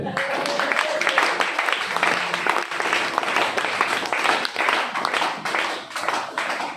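A church congregation applauding together, a dense, steady clapping that runs for about seven seconds, with voices mixed into the crowd noise.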